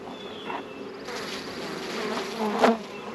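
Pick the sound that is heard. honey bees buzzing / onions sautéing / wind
honey bees buzzing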